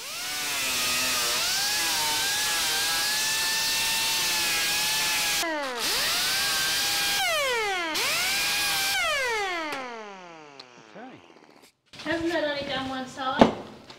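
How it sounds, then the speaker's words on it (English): A grinding disc deburrs a sheet metal edge on a custom tailgate, making a loud, high whine that runs for several seconds, spins down and restarts twice, then fades, followed by a short burst of speech and clatter. "I like to deburr my sheet straight away just to get rid of that sharp edge that could cut me."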